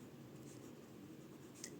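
Chalk or marker writing on a board during a grammar lesson, faint scratchy strokes over a low steady room hum, brief and quiet.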